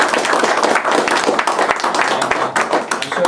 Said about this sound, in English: I'd love everyone to give Iain a round of applause